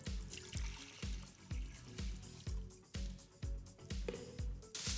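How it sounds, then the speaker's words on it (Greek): Two liters of water poured into a pressure cooker for a cheesecake water bath, a soft close trickle repeating in short pulses. "βάζουμε το τρίποδο, προσθέτουμε 2 λίτρα νερό"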